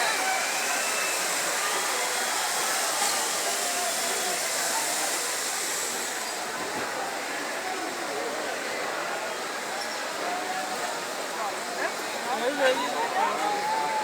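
A Fallas monument burns during the crema, a steady, loud roaring rush of fire filling the whole stretch, with distant crowd voices and a few brief crackles and pops near the end.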